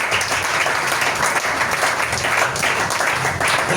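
A church congregation applauds together in a steady, dense wash of clapping that holds at the same loud level from start to finish.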